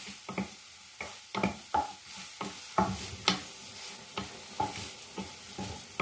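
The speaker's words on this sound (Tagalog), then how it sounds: "Lulutuin po natin yung beef sa tomato, sa bawang at sibuyas para po malasa." Beef fries in a pan with tomato, garlic and onion, a low sizzle broken by repeated scraping stir strokes in an uneven rhythm, close and fairly quiet, with no talking.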